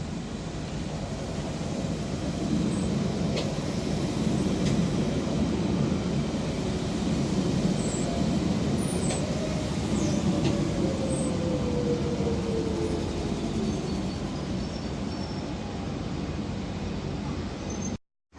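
Train 91293 bound for London rolling past, a steady broad rumble with wheel and track noise holding loud and constant throughout, with faint high squeals above, cutting off abruptly at the end.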